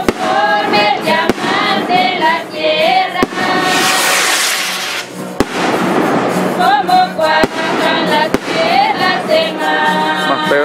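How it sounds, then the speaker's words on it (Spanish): Rockets and firecrackers burst at a village fair in Bañaderos marking the arrival of an image of the Apostle: sharp, loud bangs every second or two over loud festive music. "Que es cantidad de cohetes que tienen por allá"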